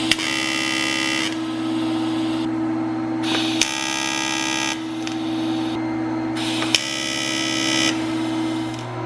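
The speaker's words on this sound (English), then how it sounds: "basically the tack function on the Magic Wave 230i" A Magic Wave 230i TIG welder runs its tack function on a V-band flange, giving repeated steady buzzing hums in bursts a couple of seconds long with sharp arc-start clicks between them, loud and close.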